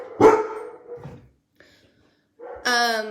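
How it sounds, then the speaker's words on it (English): A dog barks at people passing by on their walk, giving a few sharp nearby barks, a short pause, then a longer loud bark-howl. "This is not the time to be barking at the people that are on their walk."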